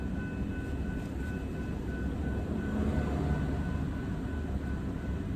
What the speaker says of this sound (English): That's a light rail or the big train?